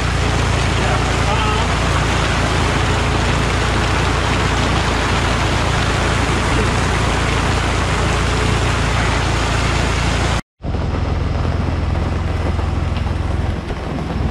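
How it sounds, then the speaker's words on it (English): Heavy rain pours steadily onto a tent, a dense, loud and continuous wash of noise that drops out briefly near the end before resuming slightly softer. "It's pouring rain."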